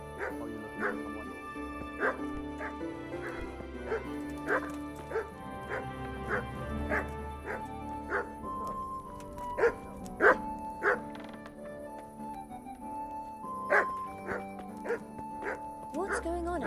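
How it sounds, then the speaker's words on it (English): A dog in Kingdom Come: Deliverance barks repeatedly in close, sharp yaps and yips with a few whimpers, an irregular string of barks alongside speech in the scene. "Who are you barking at?"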